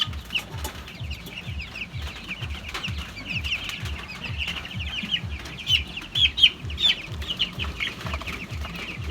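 Fifteen-day-old chicks and grown chickens cluck in a steady, rhythmic chorus, with higher peeping chirps scattered above. No one speaks.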